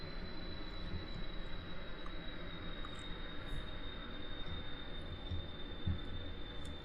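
Harrier II jump jet engine in a flight simulation game, a steady, continuous jet roar with a thin high whine held at constant level while the throttle is pulled back.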